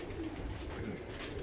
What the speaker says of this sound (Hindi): कबूतर पकड़ना, ये दाना खा रहा है पहला